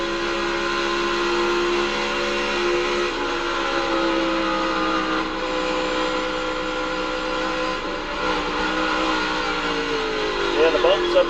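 Onboard a NASCAR Cup Series race car at Chicagoland Speedway, a loud sustained engine roar that holds steady and then shifts in pitch near the end as the car spins out, with radio chatter under it.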